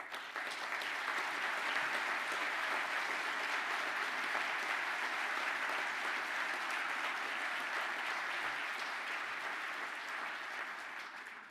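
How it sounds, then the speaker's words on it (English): A crowd at a graduation ceremony applauds the graduating class, a dense, even wash of clapping that holds steady for the whole stretch before easing slightly at the end. "the class now please stand up for a well-deserved round of applause."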